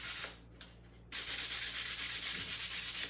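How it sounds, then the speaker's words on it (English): Steady abrasive sanding along the edges of a small wooden strawberry craft piece, with a short rub early on and then continuous close, even strokes throughout. "I'm just sanding the edges of this here quick."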